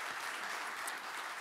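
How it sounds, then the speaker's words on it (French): Steady, dense applause from an audience closing a French conference session on livestock farming and climate change, even and sustained throughout with no talk over it. "on va vous applaudir"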